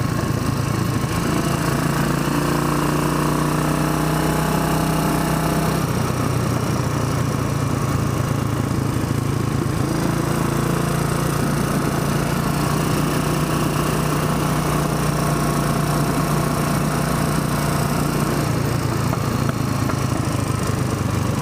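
Royal Enfield Bullet 500 Iron Barrel single-cylinder motorcycle running with no exhaust pipe, its loud steady thumping drone held close and continuous while riding, shifting in tone partway through, with no talk over it.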